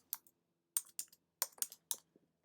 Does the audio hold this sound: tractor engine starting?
no